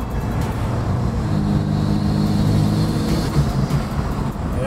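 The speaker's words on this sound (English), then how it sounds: "I can definitely hear the turbo spool just a little bit more" A steady BMW M2 engine with a Stage 2+ tune drones loudly throughout with a low, even hum. A faint rising whine of turbo spool appears near the end.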